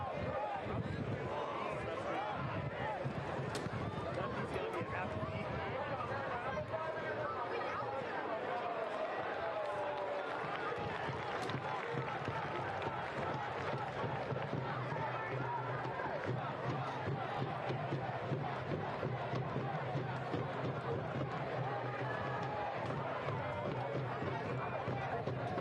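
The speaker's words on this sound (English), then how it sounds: "Full crowd here at Keyword Stadium." A full stadium crowd at a Detroit City FC soccer match against Indy Eleven keeps up a dense, constant roar with chanting and shouts, while a commentator talks over it throughout.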